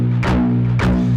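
Heavy distorted electric guitar picked with palm muting for a tight metal chug, two sharp accented hits about half a second apart over a sustained low grind, close and loud, alone.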